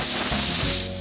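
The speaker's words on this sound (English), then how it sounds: "pressure cook it until the pressure builds up or you get the first whistle" A stovetop pressure cooker holding dal releases steam through its whistle, a loud, close, sharp hiss that holds for about a second and then quickly fades.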